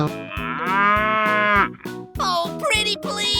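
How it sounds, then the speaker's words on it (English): A cartoon cow gives a loud, drawn-out moo lasting over a second, followed by brighter, shorter cartoon animal calls and musical sounds. "Cow."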